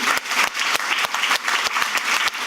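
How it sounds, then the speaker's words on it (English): Enthusiastic applause for a speaker at a conference on dignity and independent living: dense, steady clapping from a seated audience fills the whole short stretch, with no talk over it. "Let's ignore the applause directive and give an enthusiast applause to Mr. Gianluca."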